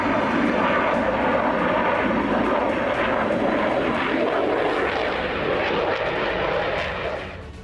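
A Russian MiG-29 fighter jet lands at Shiraz airbase in Iran, its engine making a loud, steady roar that holds broad and unbroken before easing off slightly at the very end.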